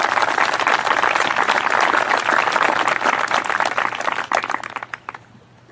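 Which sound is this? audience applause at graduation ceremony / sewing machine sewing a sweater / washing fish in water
audience applause at graduation ceremony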